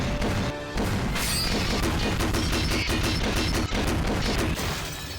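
Rapid bursts of gunfire from the visual novel game Rose Guns Days, dense and loud, with sharp repeated cracks and impacts running almost continuously, briefly dropping out near the start.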